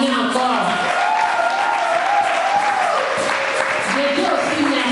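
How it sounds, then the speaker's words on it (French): Church congregation at a women's convention applauding, a steady wash of clapping throughout under a preacher's amplified voice, with no clear cheering standing out. "Est-ce qu'on peut les acclamer encore?"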